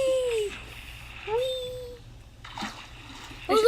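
Swimming splashes in water in the Minecraft video game, a few soft splashy bursts heard alongside gliding game tones and voices talking.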